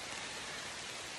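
Steady rain falls on the Appalachian Trail in hot, humid weather, a dense even hiss of drops on surfaces close around, unbroken for the whole stretch with no voices.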